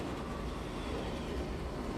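A speeding train rushes past in the 1978 Superman film, a dense, continuous rumbling roar with a steady broadband rush throughout, no voices.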